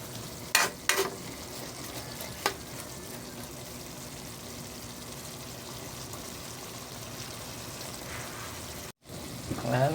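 String beans and small shrimp are stir-fried in a pan: a continuous soft sizzle with a few sharp scraping clinks of the utensil early on and again at the end.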